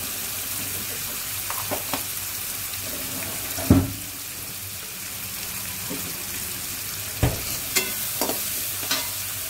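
Onion and green chilli fry in oil with cumin and asafoetida, a steady soft sizzle running throughout, broken by a few sharp clinks of a spoon against the pan.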